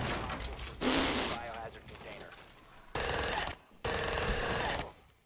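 Automatic weapon fire in Rainbow Six Siege: long, dense bursts of rapid shots from close by, separated by brief pauses, with faint voices and game noise underneath.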